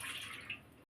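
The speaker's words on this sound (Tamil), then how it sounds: "சட்டியில் தண்ணி ஊற்றிடுறேன்." Water pours into a cooking pan in a brief, steady, soft splashing stream that cuts off abruptly.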